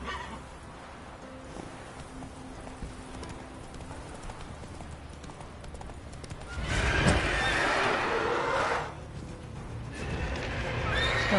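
Geralt's horse Roach in The Witcher 3 game, with hooves clip-clopping throughout and a loud, close neigh in the middle, heard alone without talk.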